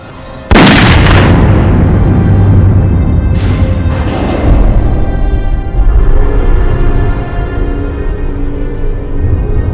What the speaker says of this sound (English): he grabs a gun, and in a very crappily done slow motion scene, he shoots himself.